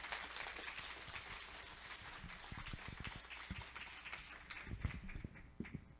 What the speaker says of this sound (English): give Josh a big round of applause